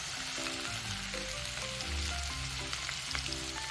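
Okra frying in a pan for vendakka pachadi, a faint, continuous sizzle with a low background hum and no distinct stirring strokes.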